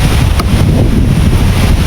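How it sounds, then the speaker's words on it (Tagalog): Strong waves at Pikalawag Beach crash in a loud, continuous roar, mixed with heavy wind buffeting the microphone. "Kusog kayong balod ay."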